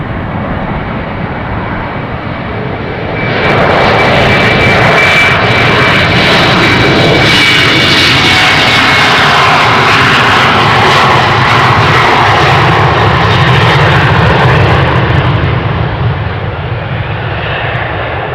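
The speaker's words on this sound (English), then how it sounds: "Meanwhile, the Embraer from SAS is taking off." Jet engine roar from an SAS Embraer taking off at Amsterdam Schiphol airport, starting as a steady distant rumble and swelling into a loud, broad thrust roar that holds strong before easing slightly near the end.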